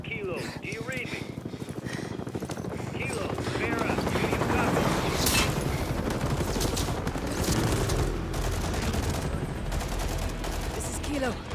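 A firefight in the Call of Duty: Modern Warfare III campaign, with bursts of distant and nearby gunfire mixed with helicopter rotor noise and a dull boom, under continuous radio-style voices.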